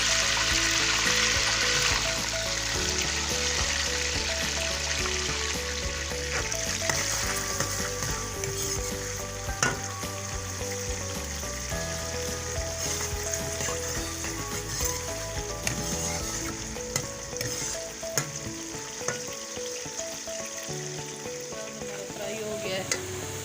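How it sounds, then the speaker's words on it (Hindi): Onions sizzle and crackle steadily in hot oil for aloo matar pulao, a dense frying hiss with occasional stirring clinks, while soft background music plays underneath. "ऑयल हमारा गर्म हो गया, अब मैं इसमें प्याज डाल दूँगी।"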